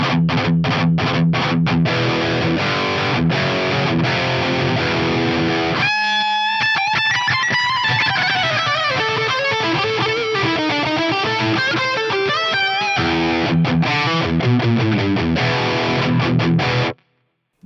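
An electric guitar played through an Axe-Fx plays with heavy distortion and echoing delay, choppy low riffs giving way to a sustained, wandering high lead line with more gain and delay before the riffs return.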